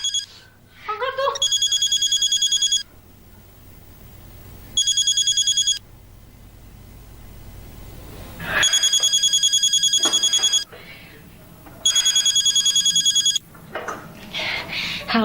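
A mobile phone rings loudly and close in repeated electronic bursts separated by short pauses, with brief talk and movement noise in the gaps between rings.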